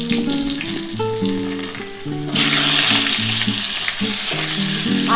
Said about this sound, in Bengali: এই তেলের মধ্যেই কিন্তু আমি আলুগুলো দিয়ে দিচ্ছি